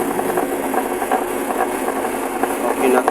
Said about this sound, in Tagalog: okay na tong washing machine na ito.